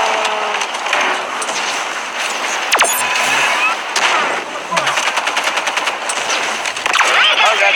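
Loud, close gunfire in the Halo 5 video game: rapid automatic bursts and single sharp shots over a dense game soundscape, with a few brief rattling volleys near the end.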